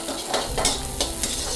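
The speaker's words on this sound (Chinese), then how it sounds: "把底料炒香" Base ingredients of ginger slices, garlic cloves and Thai chilies sizzle in hot oil in a wok while being stirred, a dense continuous frying hiss with scraping strokes at a steady rhythm.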